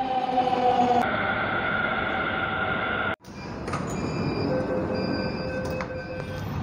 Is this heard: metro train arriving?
yes